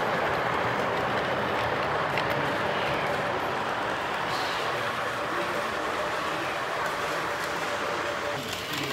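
A model electric train runs along its tracks in a steady, continuous rolling rumble with a faint metallic hiss, heard up close and without talk throughout.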